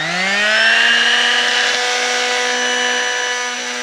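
A power tool trimming a goat's hooves whines steadily at high speed, its pitch rising briefly as it spins up, then holding a loud, continuous buzzing tone up close.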